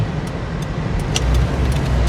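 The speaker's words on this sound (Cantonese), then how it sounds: "有車嚟緊" A car approaching and passing on a road at a red-light junction, a loud steady engine and tyre rumble growing slightly louder, with no talk over it.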